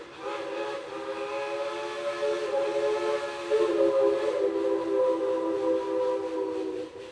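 A steam train whistle blows at Dollywood, a long sustained multi-tone chord held steadily for several seconds, loud and clear with a slight swell partway through.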